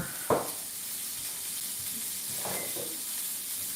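Butter sizzling in a pan with seasoned vegetables including Fresno pepper, a continuous bright hiss with a sharp burst at the start and a few softer sputters later, close and alone.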